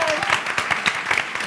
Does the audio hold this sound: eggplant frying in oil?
no